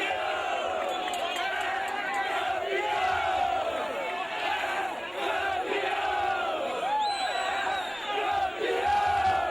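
Palmeiras (Verdão) supporters flooding onto the pitch after a Catarinense championship match in 2007, a dense, continuous crowd roar with shouting and chanting of the champions' cry, loud and sustained throughout.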